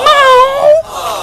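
A single drawn-out, wavering meow imitated by a human voice, close and clear, sliding down in pitch before trailing off.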